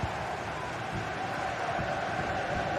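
Steady broadband roar of a stadium crowd in a football video game, a continuous dense wash of cheering and murmur at even loudness throughout, with no distinct voices standing out.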